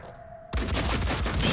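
A loud burst of gunfire erupts abruptly after a brief quiet hum in the video game Phoenix Point, a dense rapid volley that continues to the end.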